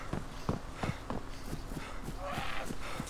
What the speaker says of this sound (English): Is it the zombie's footsteps, or is it someone else's I just heard?